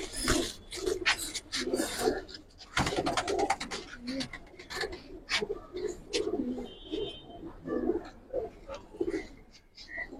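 Giribaz pigeons of a Palla racing line coo steadily in a loft, their overlapping soft calls repeating close by with a few sharper wing and movement noises mixed in.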